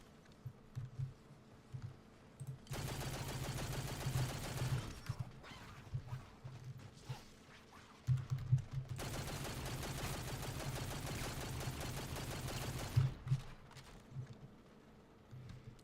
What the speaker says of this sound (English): Perfect for a very fast rate of fire gun like this